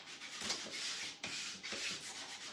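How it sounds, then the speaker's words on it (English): Coarse 80-grit sandpaper rubs along the sides of a wooden sign in close, scratchy, continuous strokes, with a brief break midway, and no one talking. "we'll take an 80 grit and go over the sides"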